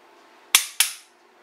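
A Glock 17 pistol dry-fires with two sharp, close mechanical clicks about a quarter second apart, each ringing off briefly against a quiet background.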